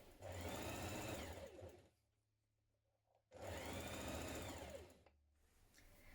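A sewing machine stitches dress panels together along the side seam markings, running in two loud, steady bursts of about two seconds each with a quiet pause between them and near the end.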